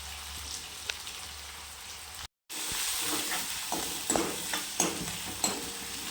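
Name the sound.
onion sautéing in a pan for pithla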